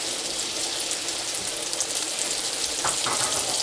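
Butter melting into garlic in hot olive oil gives a constant, close crackling sizzle with fine popping and spitting, steady throughout, no voices.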